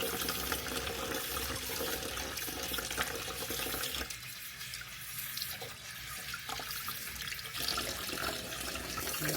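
Arugula leaves rinsed under a running kitchen tap, with a steady, close hiss of water splashing into the sink that dips and shifts midway as the greens are moved through the stream.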